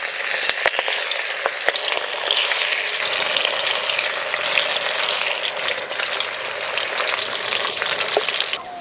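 Fish sizzle hard as they fry in lightly heated mustard oil in a wok, a dense, steady hiss with a few crackles and pops, loud and close throughout without any voice.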